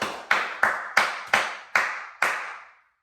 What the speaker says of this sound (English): You guys have a round of applause